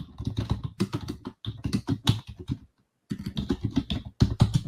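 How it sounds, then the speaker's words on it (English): Fingers type on a computer keyboard in quick bursts of clicky keystrokes, with a short pause in the middle before the tapping resumes; the typing is close and clear, with no voices. "I'm typing in our group."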